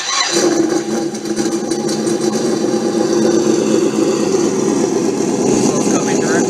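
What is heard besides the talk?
RC car sound module engine sound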